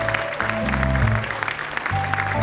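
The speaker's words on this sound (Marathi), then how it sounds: "जोरदार टाळ्या होऊ द्या." An audience at a Konkan festival stage event claps for a poster launch, with steady applause running under a low musical drone and tone.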